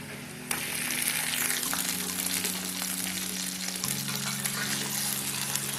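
Onion, green chili and ginger garlic paste sautéing in a pan, giving a loud, continuous close sizzle that jumps up sharply near the start and holds steady, with a low hum beneath.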